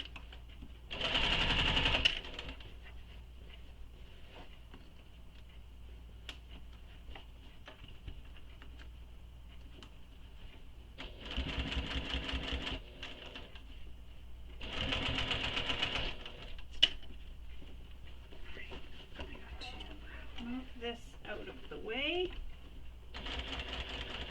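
Sewing machine stitching through thick layered fabric of a shoulder bag, running in three loud bursts of a few seconds each with quiet pauses and handling noise between them.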